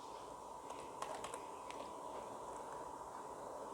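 Someone types code on a computer keyboard, soft scattered key clicks with a few brief quick bursts, close but faint over a constant low hiss, and no one talking.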